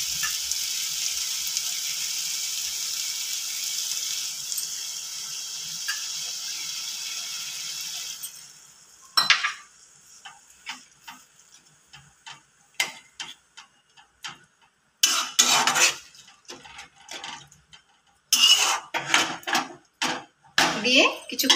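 Kochur loti (taro stolons) cooks in a pan with lemon juice, first as a steady close sizzle. The sizzle then gives way to irregular bursts of spoon scraping and clattering against the pan between quiet pauses.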